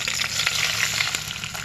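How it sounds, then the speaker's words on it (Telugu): Wheat rava frying in ghee in a pan for upma crackles with a steady, close sizzle, broken by faint scraping from stirring, with no voices. "గోధుమ రవ్వని వేయించుకోవాలి ఫ్రెండ్స్"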